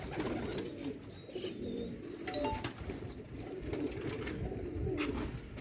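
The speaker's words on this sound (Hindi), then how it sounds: "प्योर सियालकोटी दोस्तों चूहे कबूतर" Sialkoti chuhe pigeons coo softly on a Sialkot rooftop amid a constant low background rumble, with faint scattered bird calls and no one speaking.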